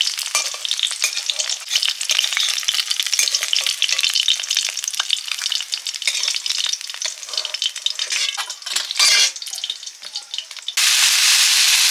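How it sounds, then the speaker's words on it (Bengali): Fish frying in oil in a pan, with fish roe also being fried, over a village cooking fire: a loud, continuous sizzle and crackle with spattering bursts, steady throughout and intensifying near the end. "মাছগুলো ভাজা হয়ে গেছে"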